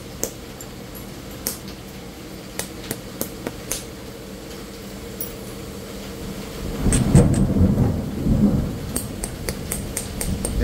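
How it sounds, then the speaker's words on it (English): Scattered sharp taps of knapping gold sheen and rainbow obsidian over faint background hiss, then a low rolling rumble of thunder swells in the distance and fades, with more light taps. "And the thunder rolls."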